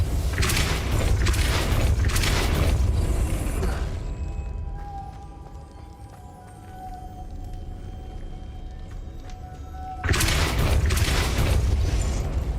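The Depulso force-push spell is cast in Hogwarts Legacy, alongside Lumos. Heavy whooshing booms burst in loud, drop away to a quieter hum with a faint tone, then another blast returns.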